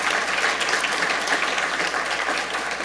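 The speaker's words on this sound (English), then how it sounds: "Can we have one more round of applause for all of our speakers that were here today?" An audience at a public forum on a northern waterfront economic development initiative gives the speakers a round of applause, a dense, even wash of clapping from a crowd that continues unbroken and fairly loud.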